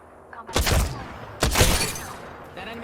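Gunfire in Apex Legends comes as two loud bursts of rapid shots about a second apart, sharp and close, over quieter game background with a voice in places.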